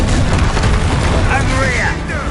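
A booming blast from the Confringo fire spell in Hogwarts Legacy, loud and close, with a cracking burst followed by a decaying rumble and sparkling crackle as it fades.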